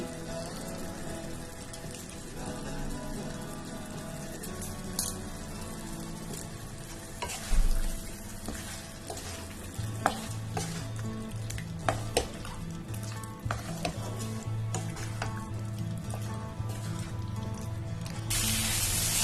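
Chicken kosha is stir-fried in a pan with little oil, producing a continuous crackling sizzle with frequent utensil scrapes and clinks against the pan, loud and close throughout.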